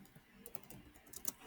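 Quick, light clicking of a computer keyboard as simple Python code is typed, soft irregular keystrokes close by in a quiet room.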